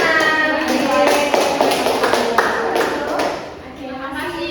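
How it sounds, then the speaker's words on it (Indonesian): Students in a sixth-grade classroom clap briefly in a loose, uneven patter of nearby hands, rising and fading over a few seconds. "Tepuk tangan."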